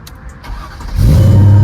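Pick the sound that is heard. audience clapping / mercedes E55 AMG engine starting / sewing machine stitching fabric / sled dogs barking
mercedes E55 AMG engine starting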